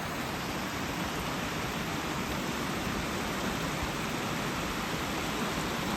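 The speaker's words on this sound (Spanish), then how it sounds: "escuchar el ruido del agua" Flowing water at a river spot with seating for visitors, a steady broadband rush that fills the whole clip evenly and loudly, with no speech.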